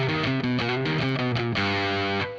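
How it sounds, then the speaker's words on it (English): Heavily distorted guitar chords chug in a steady rhythm through a busking setup, thick and saturated, ending with a sustained crunchy chord that fades out. "I have distortion here."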